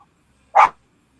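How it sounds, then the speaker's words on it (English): A single short dog bark close to the microphone indoors during a live online conversation, sharp and brief, with silence around it. "Sorry, my dogs are acting up."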